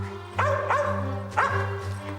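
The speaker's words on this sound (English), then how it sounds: "Timmy, bark." Two sets of short, sharp dog barks, each a quick pair of yaps, close and clear over a steady low hum.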